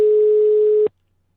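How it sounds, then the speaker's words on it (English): A single steady telephone tone sounds loud and close during a call, holding one pitch for under a second before cutting off abruptly into silence. "It's ringing."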